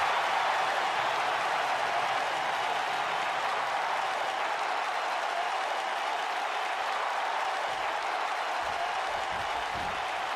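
Arena crowd in the WWE 2K19 wrestling video game, a continuous, even roar of cheering and clapping that stays steady and fairly distant with no breaks.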